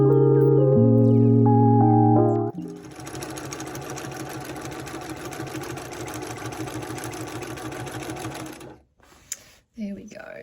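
Home sewing machine running steadily through free-motion quilting of circles, a dense mechanical stitching whir that starts after a brief louder tonal passage and then stops near the end; a voice talks over part of it.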